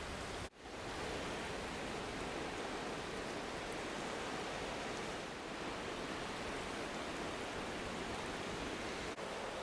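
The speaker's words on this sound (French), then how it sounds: "la marée remonte très vite. En 2-3 vagues, elle est remontée de plusieurs dizaines de mètres." Waves of a fast-rising tide on the Île de Ré make a steady, broad wash of surf that continues without break. It is moderately loud, with no voices heard.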